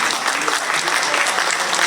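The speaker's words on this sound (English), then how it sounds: "let's give this business a round of applause" A forum audience applauds a business in a steady, dense burst of clapping that fills the room, loud and even, with no voice over it.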